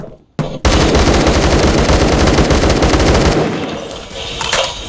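Rapid automatic gunfire in the Roblox shooter Phantom Forces, a loud sustained burst of fast, evenly spaced shots lasting several seconds that cuts off and leaves a quieter tail of scattered game effects.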